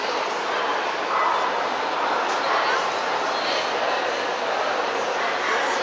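Dogs bark and yip amid the steady crowd noise of a Bernese Mountain Dog show in Paris, with voices talking throughout.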